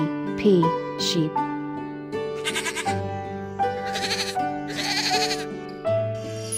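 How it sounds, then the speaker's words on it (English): Sheep bleating on a farm, several wavering, nasal bleats in a row over soft background music, close and clear, with short pauses between calls. "S-H-E-E-P, sheep."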